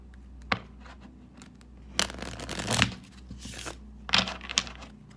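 Quiet, close riffling of a Rider-Waite tarot deck in several quick bursts, with soft taps and pauses between the shuffles.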